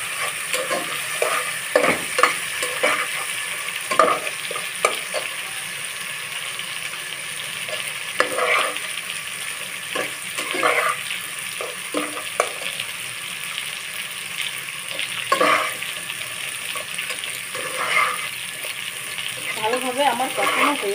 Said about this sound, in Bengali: জল মিশিয়ে দিয়ে এই মশলাটা আমি ভালোভাবে কষিয়ে ভেজে নেব